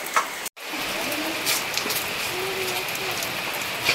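Steady rain falls in a continuous broadband hiss outdoors, with a brief cut near the start and faint voices underneath.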